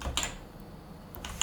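Code is being typed on a computer keyboard in a quick, sparse run of about four clicky keystrokes, close and clear over a faint hum, with no talk.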